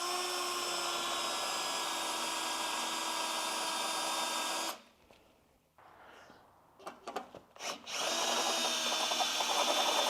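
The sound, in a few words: power drill drilling out car part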